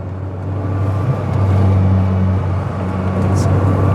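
A Rover 100 car's engine hums steadily as it rounds a roundabout at sensible speed, a low droning note holding close throughout with a slight swell in the middle.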